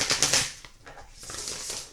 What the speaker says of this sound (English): Now I want to shuffle again.